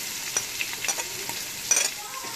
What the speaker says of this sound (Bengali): পেঁয়াজটাও মিশানো হচ্ছে তেলের সাথে।